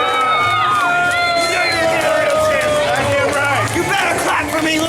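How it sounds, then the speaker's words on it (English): A large wrestling crowd in Stockton roars and jeers in a loud, continuous wash of voices, with whistles and shouts rising through the din and no single voice standing clear. "And a chorus of boos from these people in Stockton."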